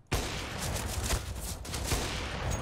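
Rapid gunfire from the game CS:GO rattles without pause, a dense, loud stream of shots with sharp reports standing out from the continuous burst, with no talking.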